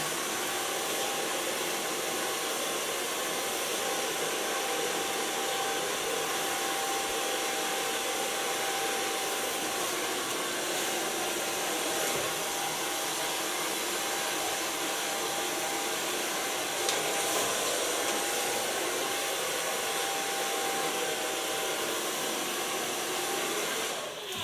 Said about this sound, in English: So far, blow drying with brush.